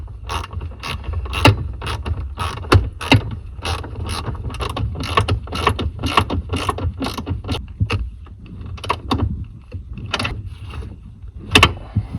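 A ratchet wrench tightens 12 mm nuts while reinstalling a plate during heater core replacement on a 1988-1992 Toyota Corolla. Quick metallic ratcheting clicks come in irregular bursts over a steady low hum, close up, with no talking.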